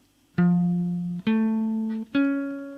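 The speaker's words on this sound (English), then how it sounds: "So this is the sound of an augmented triad." Three sustained tones sound one after another, each struck cleanly and ringing down, stepping upward to spell out an augmented triad.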